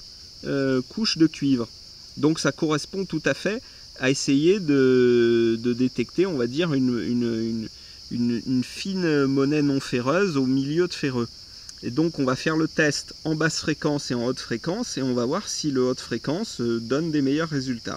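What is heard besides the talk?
cicadas buzzing in southeastern France in July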